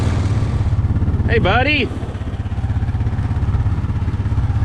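A four-wheeler ATV engine runs close by at a steady, loud, throbbing idle throughout, with a brief shouted voice over it near the middle.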